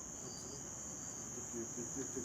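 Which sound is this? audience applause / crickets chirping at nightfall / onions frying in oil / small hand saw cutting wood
crickets chirping at nightfall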